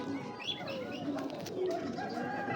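A racing pigeon hen coos briefly and softly nearby, a low burbling call with faint rustles of feathers and no voices.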